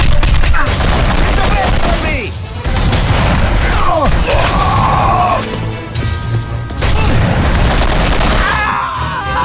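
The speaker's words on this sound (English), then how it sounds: "What are you firing, Castle?" Gunfire and combat in the 2005 video game The Punisher at a pier, with loud bursts of shots, crashes and impacts that come in clusters, dense and close, with brief gaps between volleys.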